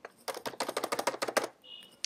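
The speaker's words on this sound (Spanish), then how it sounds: "Voy a borrarlo con el teclado" Rapid keystrokes on a computer keyboard while deleting text, about a dozen quick close clicks in a tight run, then a brief pause and one more tap.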